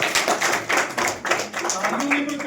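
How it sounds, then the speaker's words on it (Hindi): Audience clapping at a prize distribution function, a run of fairly rhythmic, close claps with a few sharper hits, while a voice speaks faintly near the end. "तालियों में कोई कमी ना आए।"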